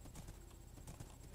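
Horse hooves clip-clopping in the Wynncraft video game, a faint, quick run of repeated hoofbeats that plays steadily across the moment with no talk.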